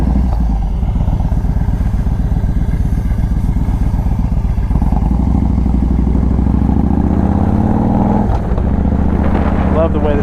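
A 2015 Victory Vegas 8-ball motorcycle idles with a deep, throbbing exhaust pulse, running steadily up close with a brief dip and a slight rev near the end.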